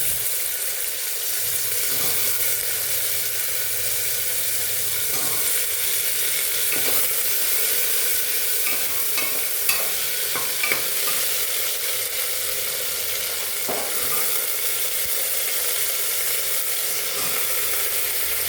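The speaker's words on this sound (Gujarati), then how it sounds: "ત્યારબાદ આપણે પાણીમાં પલાળેલા બટાકા એડ કરીશું" Soaked potatoes fry and get stirred into masala khichdi in a pan, a steady loud sizzle throughout with occasional faint scrapes of a spoon, and no voices.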